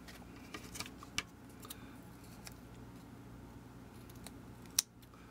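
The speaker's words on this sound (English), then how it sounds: "So I'm just cutting the pieces smaller so I can fit them in here really nicely." Scissors snipping pieces into smaller bits, a handful of sparse, crisp close cuts in a quiet room, one sharper snip near the end.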